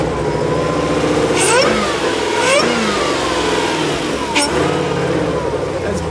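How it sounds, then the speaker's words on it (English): A Jeep concept vehicle at Easter Jeep Safari 2019 runs with a deep idling rumble, broken by three sharp throttle blips that surge and drop back, loud and close. "they would let me start it up right here so I could hear the engine"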